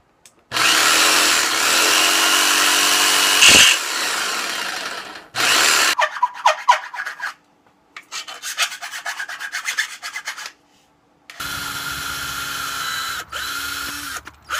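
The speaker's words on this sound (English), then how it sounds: "let's cut that piece of aluminum and see how it works" Power tool cutting a piece of aluminum sheet for a van floor, loud grinding bursts that start and stop several times, with a gritty rasping stretch and pauses of near silence between cuts.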